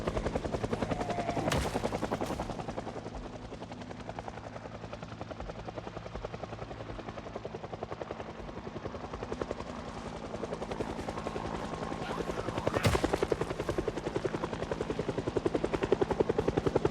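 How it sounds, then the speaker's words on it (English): Helicopter from a zombie survival video game flying overhead, a continuous loud rotor chop with rapid blade pulses, swelling as it passes close and staying constant for the whole stretch. "We're really not getting any short helicopter events, are we?"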